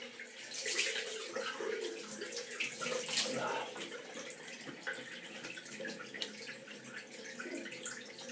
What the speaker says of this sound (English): Now I'm just going to rinse my face.